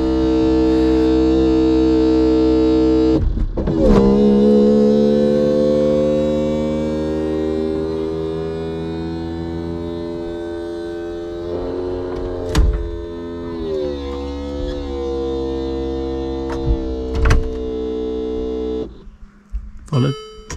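The electric roof mechanism and rear windows of a Peugeot 206 CC whine as motors drive them, a sustained tonal hum with pitch shifts, clicks and clunks between stages, and someone talks over part of it.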